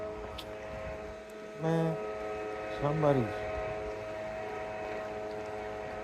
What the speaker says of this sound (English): somebody's using their blower up there, messing with my nature sounds